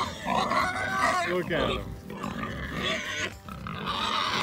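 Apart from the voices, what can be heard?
angry hungry pig grunting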